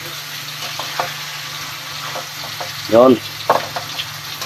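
Onions sizzle and get stirred in a frying pan for sarciado tilapia, a soft continuous frying hiss with scraping clatters, and someone speaks briefly over it near the middle.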